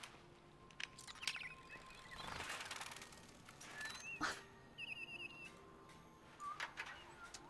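Android birds in the video game Detroit: Become Human chirp and whistle in short scattered calls over a faint ambient background, with a few louder rustling bursts in between.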